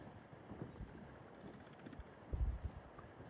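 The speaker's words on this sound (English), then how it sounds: "It's windy a little bit." Steady wind rushing over open cattle pasture on a rural estate near Olympia, Washington, a soft broadband roar with low buffeting gusts and a stronger rumble near the end.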